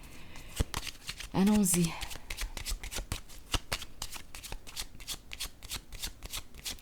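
A deck of cards is shuffled in a rapid run of crisp, evenly spaced flicks and ticks, close up. A single short spoken word comes early.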